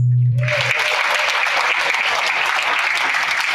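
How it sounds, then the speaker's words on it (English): A brief tone gives way to a gala audience's steady, full applause, many hands clapping close and loud without pause for the rest of the moment. "Can we give Dr. Nkemzi a hand of applause?"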